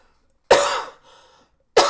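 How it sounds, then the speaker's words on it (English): A person coughs twice, a sharp close cough with a short trailing breath, then a second burst after a brief silence. "I do have to cough, so I apologize."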